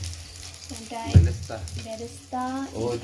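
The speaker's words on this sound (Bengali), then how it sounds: "এখানে কি মশলা কষা হচ্ছে এখানে" Spices sizzle and fry in a pot for mutton biryani, a steady low frying hiss with occasional stirring clatter, while people talk over it intermittently.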